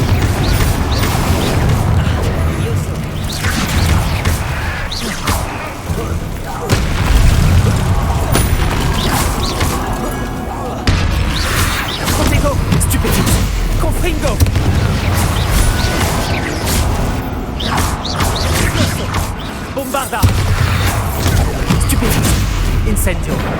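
Continuous loud booming blasts and crashing impacts from Confringo spell explosions in Hogwarts Legacy combat, dense and overlapping throughout with a spoken voice mixed in.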